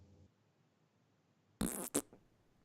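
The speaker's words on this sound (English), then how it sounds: "fart noise" A fart noise sound effect plays during a game discussion: two short, sharp blasts close together after a quiet stretch, with no talking over it.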